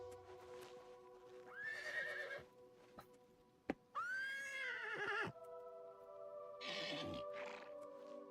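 In Oblivion Remastered, a horse whinnies loudly several times, long shrill neighs separated by pauses, with a couple of sharp thuds and clip-clop steps between them and no talk over it.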